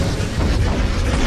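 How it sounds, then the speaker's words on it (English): A big explosion booms loud and dense for just over a second, a continuous low rumbling burst with no speech over it. "big explosion."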